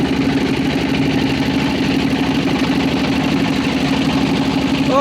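A boat engine runs steadily while the boat is under way, giving a loud, continuous low drone with a constant rhythmic throb and no breaks.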